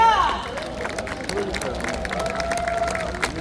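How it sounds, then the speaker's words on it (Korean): A crowd claps steadily, with cheering and voices mixed into the applause. "여러분 큰 박수 부탁드립니다"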